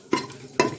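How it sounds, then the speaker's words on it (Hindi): Whole spices hit hot oil in a pot for an aloo gosht curry, giving two short bursts of stirring and sizzling less than a second apart, close and moderately loud with no talking. "बस 30 सेकंड के लिए इसको खड़े मसालों को ज़रा फ्राई करके"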